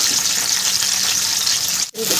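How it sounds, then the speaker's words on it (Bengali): Strips of capsicum fry in hot oil in a home kitchen, a loud, steady crackling sizzle with a brief break near the end before the hiss resumes. "ভাজার তেলে আমি কিছু ক্যাপসিকাম ভেজে নেব"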